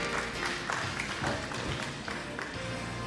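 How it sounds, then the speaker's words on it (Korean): Audience applause at a Korean sustainable seafood forum as guests are introduced, a steady dense patter of hand claps filling the room throughout. "박수 부탁드릴게요."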